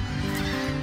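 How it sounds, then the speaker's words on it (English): Laughing gulls and other seabirds screech at a crowded coastal bird island off Grand Isle, Louisiana, a brief, loud, dense burst of harsh honking cries from many birds. "You hear the constant screeching of laughing gulls and other seabirds."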